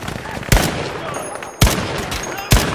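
Anti-aircraft guns firing in a naval video game, three heavy booming shots spaced about a second apart, loud and close, each with a short decaying tail over game ambience.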